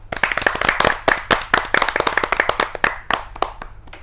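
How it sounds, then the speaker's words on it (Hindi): Audience clapping to welcome a poet at a Hindi kavi sammelan gathering: dense, lively handclaps, loud and close, filling the whole stretch before easing slightly at the end, with no talk. "जोरदार तालियों से उनका अभिनंदन करते हैं"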